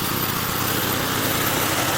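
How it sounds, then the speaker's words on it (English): Koham off-road remote-control tracked tank lawn mower runs its small engine at a steady, buzzing high-revving drone, close and loud throughout before cutting off abruptly at the end. "choosing the Koham off-road tank lawn mower is the right choice"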